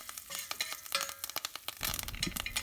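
Curry leaves and a pinch of hing sizzling in hot oil for green moong dal sambar, with crackling pops and a stirring clatter that thicken into a steadier fry near the end, close and fairly quiet.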